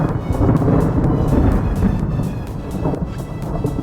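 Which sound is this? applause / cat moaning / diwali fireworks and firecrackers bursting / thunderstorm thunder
thunderstorm thunder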